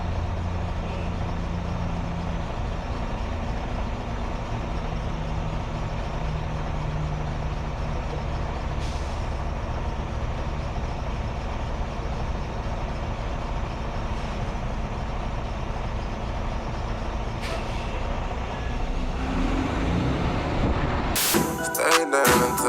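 Semi truck cab idling and creeping forward with a steady low diesel rumble, a few short hisses of air brakes, and a louder clatter at the very end.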